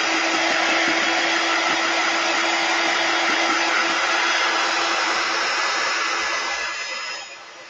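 A hair dryer blows steadily on a Chalk Couture upcycled Dollar Tree latte wood cutout craft project, a loud continuous whir that runs throughout and eases slightly at the very end.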